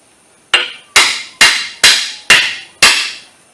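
Six sharp metallic hammer strikes ring out at a steady rhythm on a ball joint press fitted to a 2007-2012 Nissan Versa, each hit close and loud with a short decaying ring.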